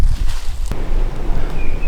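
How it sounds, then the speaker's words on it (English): Steady low wind rumble and buffeting across the microphone in an open marsh, with a brief sharp knock partway through and a faint high tone near the end. "It's getting real windy"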